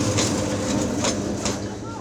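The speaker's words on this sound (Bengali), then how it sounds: "রেল লাইন উঁচু নিচু আর আঁকাবাঁকা হওয়ায় লাইন থেকে ছিটকে পড়ার এমন ঝুঁকি নিয়ে চলছে ট্রেন" A train rolls along an uneven, crooked railway line near Burmi in Gazipur, Bangladesh, giving a moderate rumbling run with a few rhythmic rattling knocks from the track.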